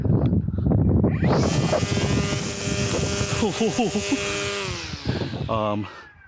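A Toro Flex-Force cordless battery string trimmer cutting grass on a lawn, giving a high, steady buzzing whine with a strong motor drone for a few seconds. Talk comes before it, and the whine dies away at the end.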